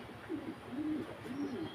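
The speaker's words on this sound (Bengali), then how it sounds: "সাদা মাদ্রাজি কবুতর আছে" Several white Madrasi pigeons coo in soft, rolling bursts that repeat at close range, with no talking.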